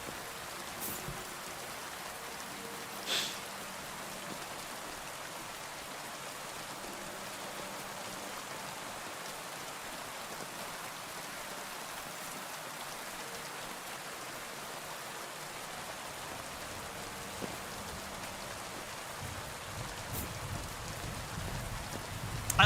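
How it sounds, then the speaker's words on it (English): Steady rainfall patters in the video game Kingdom Come: Deliverance, a soft, even wash of drops with a few faint background sounds and no talking. "I love the rain, like in real life and in KCD."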